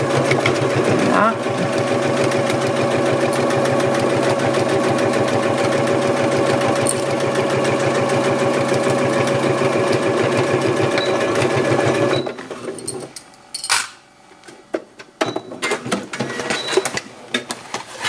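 A domestic sewing machine stitches a fabric flap for a tablet or laptop cover, a steady close whirring hum with rapid needle rhythm for about twelve seconds, then stopping into quieter handling clatter as a voice speaks.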